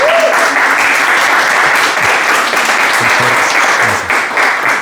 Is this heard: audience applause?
yes